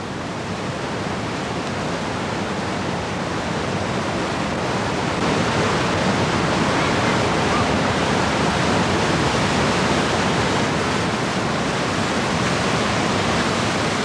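A waterfall thunders 3,000 feet down the face of a mesa in Venezuela, heard as a dense, steady roar of rushing water that continues unbroken and loud throughout.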